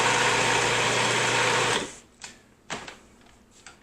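Blender pureeing celery root with sour cream into a thick mixture, a loud steady whirring motor for almost two seconds that then cuts off, followed by a few light clunks.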